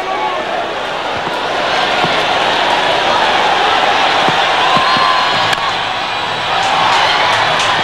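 A large, noisy cricket crowd pours onto the field at a 1999 West Indies v Australia one-day international, with a continuous roar of many voices, shouting and scattered thuds, under a commentator's voice.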